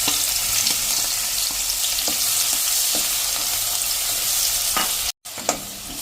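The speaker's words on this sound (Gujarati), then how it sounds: "આ 1 કપ જેવા કાંદા 2 મીડિયમ સાઇઝના સમાર્યા છે એ નાખી દેશું અને એને આપણે સરસ કૂક કરી લેશું" Two medium onions, chopped, frying with asafoetida in a pan: a steady close sizzle with occasional soft taps of stirring and a brief dropout near the end.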